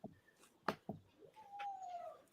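A pet cat meows indoors, a couple of short nearby calls followed by a longer drawn-out meow, with no talking over it.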